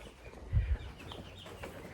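Chickens cluck inside a barn, with a couple of low, throaty clucks close by over a steady hum of background room noise, and no talk during the moment.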